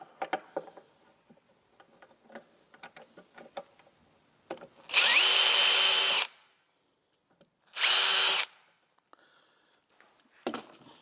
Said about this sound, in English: pre-drill that.